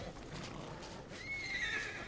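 A horse in the anime Vinland Saga, jumping over a fire, lets out a faint, high whinny late in the passage over a soft wash of background noise and light hoof sounds.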